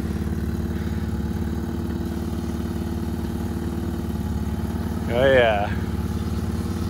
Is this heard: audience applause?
no